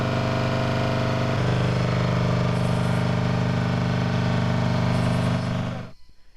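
Generators droning from a distance at night in a Ghanaian township during a power disconnection, a steady low mechanical hum that holds for several seconds and then cuts off abruptly.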